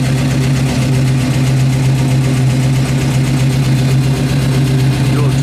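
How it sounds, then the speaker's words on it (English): A 1964 Chevelle SS engine idles through a Flowmaster dual exhaust with Flowmaster mufflers, a loud steady low rumble with a constant throb heard close up, with a voice speaking over it. "Dual exhaust sounds nice."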